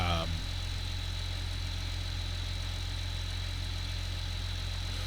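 A tractor with a mower running in Farming Simulator 15 holds a steady, even engine drone with a constant low hum throughout, alone and unchanging after a brief tone at the start.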